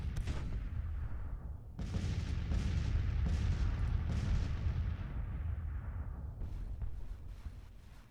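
Massed musket volleys and booming artillery fire from a Civil War battle in the game Grand Tactician, rolling as a dense, continuous roar of overlapping shots and low rumbles with no voices.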